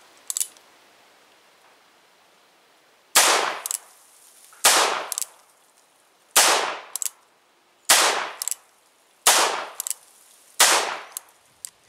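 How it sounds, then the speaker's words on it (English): Cimarron Lightning .38 Special revolver with a 3.5-inch barrel fires six loud, sharp shots at roughly even intervals, each ringing out with a short decaying tail, with brief mechanical clicks between. "Let's see what happens after we uh, fire that brass."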